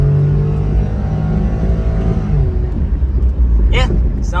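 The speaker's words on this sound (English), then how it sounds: "Let's punch it real quick. Show you all that Honda Z power." A Honda Z car accelerates hard from a steady drone into a rising engine roar, close and loud from inside the car, with a voice talking over it.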